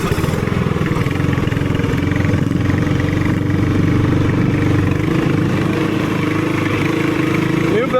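The engine of an upgraded TrailMaster MB200 minibike, fitted with a new drive belt that was installed backwards, runs close by with a steady, unbroken drone at an even level throughout.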